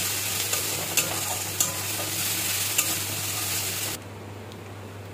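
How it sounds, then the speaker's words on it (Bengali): Ginger, garlic and green chilli paste sautés with kundri in a hot pan, a continuous close sizzle with occasional light stirring clicks before the frying suddenly drops away near the end. "ভালো করে একটু কষিয়ে নেব।"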